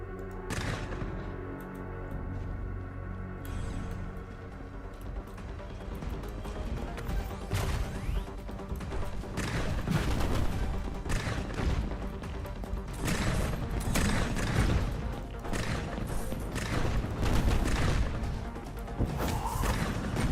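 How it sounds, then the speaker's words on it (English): Grenade launcher firing in The Last Spell, a run of sharp explosive thuds and mechanical clanks repeating irregularly over dense, busy battle noise, growing louder midway. "Alright, digging the grenade launcher right now."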